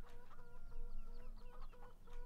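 Chickens clucking at a coop in the video game Farming Simulator 17, several birds giving overlapping, repeated clucks and short calls, steady and fairly close.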